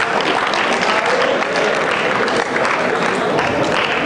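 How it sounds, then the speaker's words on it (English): A high school audience bursts into dense, sustained applause, many hands clapping at once in a hall, loud and continuous with a few voices mixed into the crowd noise. "You clap for that."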